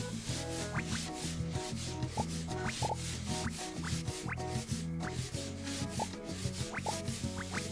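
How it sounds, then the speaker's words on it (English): Towels being scrubbed in a bathhouse in the game Spirittea, heard as a repeating series of soft rubbing strokes over a looping melodic game soundtrack, with no talking. "Let's see if we can speed it up with scrubbing them."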